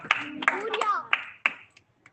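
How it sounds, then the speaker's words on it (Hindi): A few handclaps ring out from an audience at a Hindi Bible teaching session: about five sharp, separate claps, close by, mixed with voices talking. "दोनों के लिए तालियां बजवा दी। बजाइए यार।"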